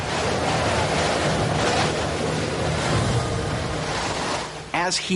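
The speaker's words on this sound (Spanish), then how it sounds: "Se intensifica la tormenta en su camino hacia los Estados Unidos" Storm waves and strong wind battering the coast at Cape Fear, North Carolina, as an intensifying storm moves in. A loud, continuous roar of surf and gusting wind fills the whole stretch, with a brief dip and a sharp burst near the end.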